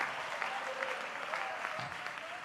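Congregation at a Pentecostal-style church sermon clapping their hands in a sustained, even patter of many claps, moderately distant, with some voices audible underneath.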